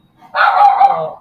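Excited house dogs bark in one loud, close burst lasting about a second, the barks running together over a quiet room.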